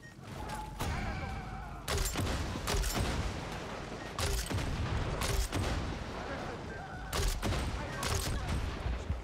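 Bursts of gunfire in the video game Far Cry 6, loud repeated volleys of shots and blasts that come in clusters every second or two over a continuous rumbling backdrop.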